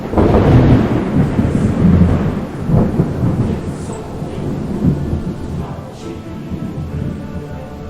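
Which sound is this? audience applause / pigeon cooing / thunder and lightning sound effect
thunder and lightning sound effect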